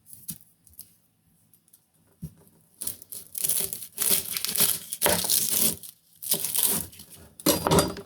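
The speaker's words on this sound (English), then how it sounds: "take a handy dandy chef's knife and just cut the top off of your heads of garlic" A chef's knife slices the tops off heads of garlic for roasting, giving close, crisp crunching and papery crackling cuts in irregular bursts, with quiet pauses between.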